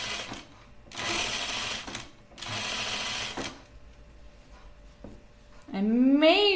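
A sewing machine stitching a Kielo wrap dress along a bound neckline runs in two close, steady whirring bursts of about a second each, followed by a pause and then a brief voice.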